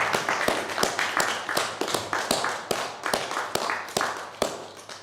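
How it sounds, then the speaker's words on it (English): Sparse, uneven claps from a few people, each a sharp crisp smack at an irregular pace, like hesitant applause starting up. "Did someone start to clap there?"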